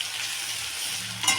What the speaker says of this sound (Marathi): कांदा टाकले, लसूण बारीक करून घेतलेला आहे तो पण टाकून दिला